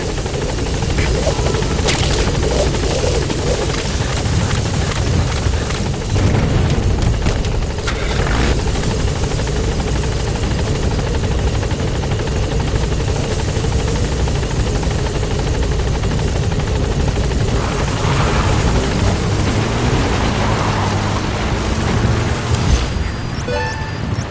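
A support helicopter arrives in a video game with a loud, constant rotor roar, layered with booms and explosions and the sustained noise of combat.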